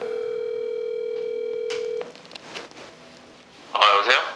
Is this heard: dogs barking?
no